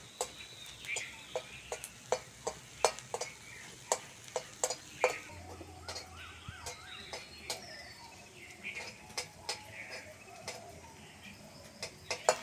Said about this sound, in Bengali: এবার দুটো শুকনো লঙ্কা ভেজে নেব।